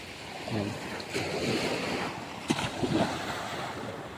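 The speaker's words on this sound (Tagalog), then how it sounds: "Ang lakas nito sa alon mga tepo, itong bangka nito." Ocean waves wash steadily against a fishing boat (bangka) out at sea, with rough wind noise buffeting the microphone and a few louder splashes partway through.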